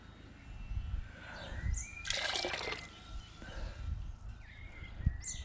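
Water sloshes and gurgles as it is pumped through a soaked item, with a louder burst of rushing liquid midway and scattered drips and splashes around it, fairly close.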